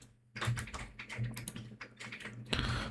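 Rapid bursts of typing on a computer keyboard, close and clear, with irregular clusters of key clicks over a faint low hum.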